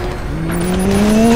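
The Batmobile in Batman: Arkham Knight surges forward, its engine pitch climbing steadily over a loud, dense roar with tire noise, heard briefly and with no talking.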